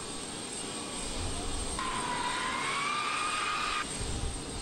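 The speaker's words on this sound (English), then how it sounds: "the largest cargo plane in the world" Engines of a giant cargo plane roar in a steady, continuous drone, with a high whining tone that rises slightly midway before dropping away.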